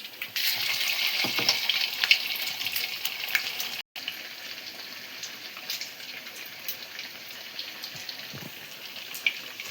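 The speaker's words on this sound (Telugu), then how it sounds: "గారెలు అయితే వేసుకుంటున్నాము." Garelu, lentil vadas, deep frying in hot oil make a close, steady sizzling hiss with scattered crackles and pops that runs throughout, with one very brief dropout.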